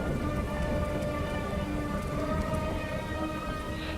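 Steady rain falling on a cold night at a rural farmstead, a constant dense hiss with no distinct drops standing out, filling the whole stretch at an even level.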